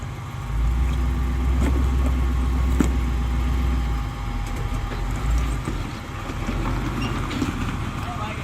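An LS-swapped Jeep with an LQ4 V8 runs under throttle on a dirt trail, its loud low engine rumble steady and close, with voices talking over it.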